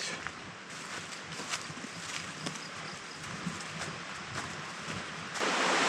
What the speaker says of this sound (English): This creek is ripping and rolling, man.